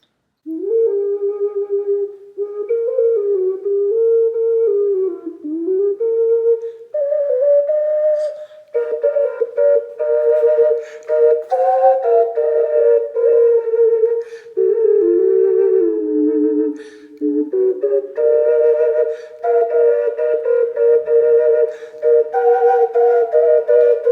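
A two-chamber Lovebirds ocarina tuned in fifths plays a flowing melody of clear, pure whistle-like notes, loud and close, with short phrases separated by brief breath pauses.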